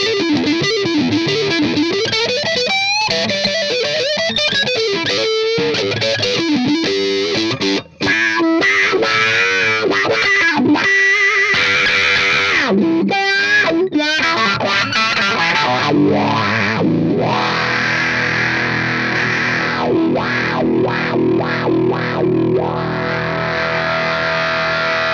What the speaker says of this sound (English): let's hear how it sounds in the modern fuzz setting with the gain cranked up all the way on the pedal